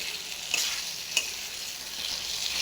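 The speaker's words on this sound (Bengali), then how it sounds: "আমি আর একটু কষিয়ে নেবো ভালো করে" Potato curry (aloo dum) being sautéed and stirred in a pan, giving a steady close sizzle with a couple of sharper scraping stir strokes and no voices.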